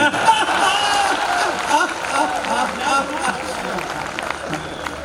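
An audience at a Hindi comedy poetry gathering claps steadily, a continuous, fairly loud wash of applause and crowd noise lasting throughout.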